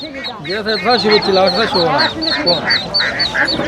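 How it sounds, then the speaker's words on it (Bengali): Domestic ducks quack repeatedly in a busy cluster at a village market, close by and fairly loud, mixed with people talking over them throughout. "এই দেশি হাঁস বাজারের দেশি হাঁস"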